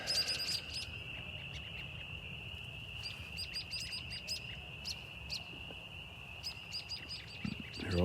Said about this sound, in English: Hear all those frogs.